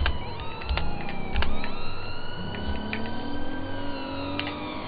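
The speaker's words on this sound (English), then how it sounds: "I got dual sirens." Two police sirens wail together from a responding patrol car in GTA 5, their rising and falling tones overlapping continuously over a low engine rumble, loud and close throughout.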